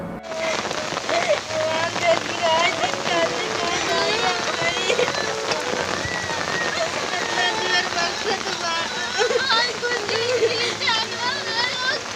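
Heavy rain pours in a steady, dense hiss on surfaces outdoors, loud and continuous, with a voice talking over it throughout.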